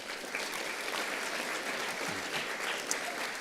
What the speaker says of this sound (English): Can I get a round of applause for them, please?